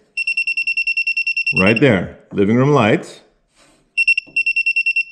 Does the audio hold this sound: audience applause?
no